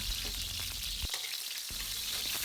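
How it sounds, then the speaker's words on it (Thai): Crushed Chinese garlic stir-frying in hot oil in a Thai kitchen, a loud close sizzle with a couple of spatula knocks and a short dip where the pan goes briefly quiet before the frying resumes. "ผัดกระเทียมจีนกับน้ำมัน เจียวให้หอมเลยนะคะ"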